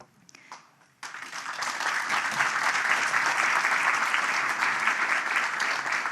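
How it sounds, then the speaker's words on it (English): A brief murmur, then a large audience bursts into loud, sustained applause that holds steady to the end. "Yes, I thought that deserved a round of applause."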